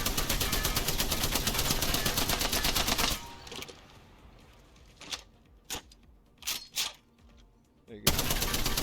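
Spitfire machine gun in Apex Legends, a loud rapid burst of continuous automatic fire, then a few short separate bursts after a pause, and a final sustained burst at the end.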